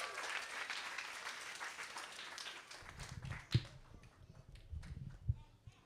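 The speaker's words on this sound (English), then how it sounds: "So can we just give them a round of applause for awarding our kindergarten scholars?" Applause from a school audience at a kindergarten scholars ceremony, a dense patter of clapping that thins out partway through, leaving a few scattered claps and low room noise.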